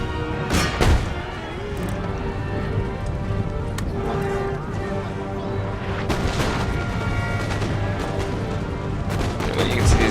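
Musket and cannon fire crackle through a battle in Empire: Total War, with dense sharp bursts, a few loud booms and galloping cavalry hooves under a constant din.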